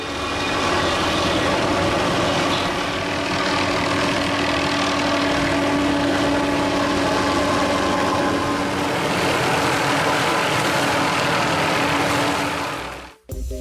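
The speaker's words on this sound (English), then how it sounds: "it's necessary to control not only the helicopter, but also the cutting mechanism" A helicopter carrying a suspended tree-trimming saw works near power lines, its engine and rotor roar loud and continuous for the whole stretch, then cut off abruptly at the end.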